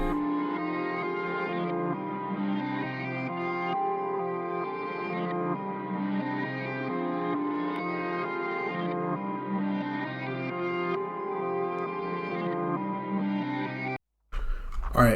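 Music sample treated with parametric EQ and reverb for a beat in FL Studio; dense, continuous sustained harmonic tones play alone for most of the stretch before a brief dropout and a short return.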